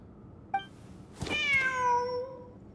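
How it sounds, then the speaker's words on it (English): Cat meowing in Genshin Impact: a short chirp followed by a longer, clear, drawn-out meow with falling pitch, close and alone over a quiet game background. "Wait, there it is! The cat!"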